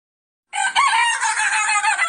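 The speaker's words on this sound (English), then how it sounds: "in the morning, we all know the way that chicken normally crow" A rooster crows once, loud and close, a single sustained cock-a-doodle-doo that starts abruptly after a short silence.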